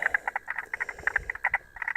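A frog, not a spotted marsh frog, calls during a frog hunt. It gives a fast, steady run of short, bright croaking pulses, close and fairly loud, with no talking.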